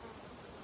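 Honeybees in a hive with brood but no stored honey make a steady, continuous buzzing hum that stays even and close throughout, with no talking.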